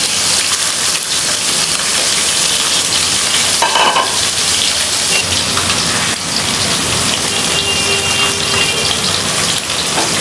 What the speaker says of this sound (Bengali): মাছগুলো এখন ভেজে দেবো একটা একটা করে সুন্দর করে।